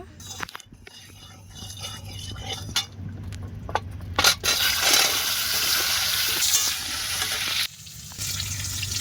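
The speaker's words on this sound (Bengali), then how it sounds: "কড়াইতে তেল দিয়ে দিচ্ছে আলু ভাজার জন্য" Potatoes frying in oil in a wok over a village coal fire, a steady loud sizzle that swells midway, with occasional stirring clatter and faint voices in the background.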